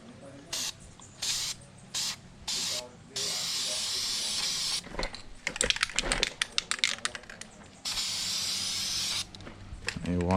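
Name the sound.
spray painting headlight housing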